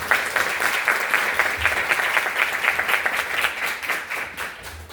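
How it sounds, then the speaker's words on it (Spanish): An audience breaks into sustained applause at an afternoon panel session at a CLACSO alternative space in Bogotá. The dense clapping stays fairly steady and close for the whole stretch. "vamos a darles un aplauso"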